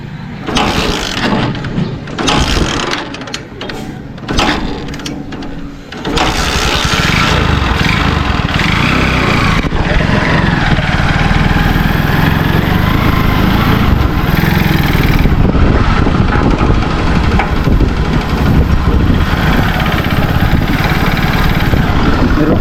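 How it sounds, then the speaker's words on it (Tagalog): A motorcycle engine runs loudly and steadily nearby for about twenty seconds during trash hauling, with a rougher, uneven start that settles into a constant drone. "Yan, itong motor pala ni Dagi."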